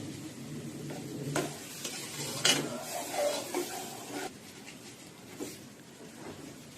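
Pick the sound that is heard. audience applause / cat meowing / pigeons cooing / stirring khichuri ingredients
stirring khichuri ingredients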